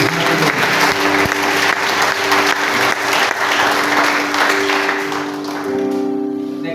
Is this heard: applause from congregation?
yes